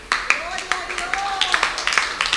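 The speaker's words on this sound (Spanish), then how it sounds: "dele palmas fuertes al Señor" A church congregation claps strongly in a quick, steady rhythm, sharp hand claps repeating close together, with a voice or tone carrying faintly underneath.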